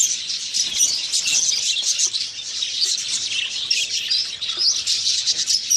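Budgie parrots chirping near a clay nest pot, a dense, continuous flurry of high, rapid tweets and chatter from several birds, close and fairly loud with no talk.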